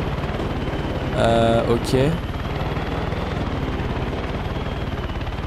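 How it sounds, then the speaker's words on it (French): A helicopter in the video game Far Cry 6 drones with steady rotor chop throughout, and someone speaks briefly over it. "L'hélicoptère est plus simple à contrôler que l'avion."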